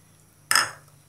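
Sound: stirring rabbit soup with carrots in a pot

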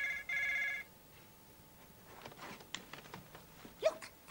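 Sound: telephone ringing

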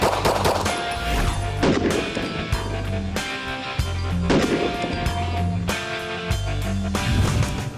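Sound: gunshots from a Springfield Armory 9mm 1911-style pistol

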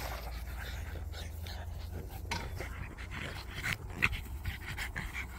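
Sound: dogs panting

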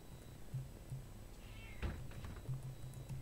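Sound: cat meowing loudly in the horror video game Pineview Drive

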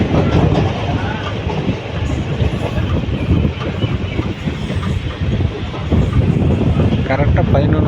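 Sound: train running from Nagapattinam to Karaikal

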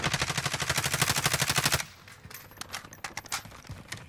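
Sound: gunfire from the video game Call of Duty

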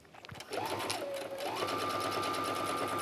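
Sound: sewing machine stitching down a tote bag strap

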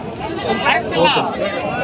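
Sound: goats bleating at livestock market

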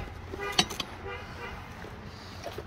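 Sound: car horn honking

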